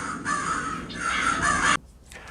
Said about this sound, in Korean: 저녁 무렵에 하늘을 뒤덮고 소리를 내며 나는 까마귀떼의 모습은 배트맨의 그래픽 장면을 연상케 합니다